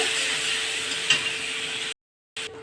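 Ginger-cumin paste with chili powder and turmeric sautés in a pan for a koi fish and kochu curry, giving a steady close sizzle with a brief stir before a short cut to silence.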